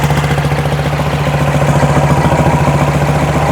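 A 1972 VW Beetle air-cooled engine with dual carburetors idles close and loud, a steady, pulsing low hum with a regular throbbing rhythm and no talk over it.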